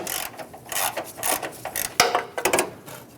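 A hand ratchet loosens a front fender bolt on a 1997-2006 Jeep Wrangler, giving bursts of close, dry clicking in short uneven strokes with sharp knocks between them.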